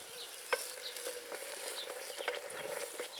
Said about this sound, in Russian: Ну, закипело, забурлило.